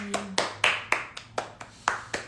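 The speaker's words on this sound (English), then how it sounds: "Let's clap your hands." Hands clap about nine times at a steady, unhurried pace, each clap sharp and close, with a brief soft tone in the background at the start.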